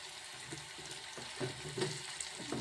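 Turmeric and coriander-cumin powder are stirred into a frying pan: a quiet sizzle runs beneath soft, repeated scraping strokes of the spoon, heard close and without talk.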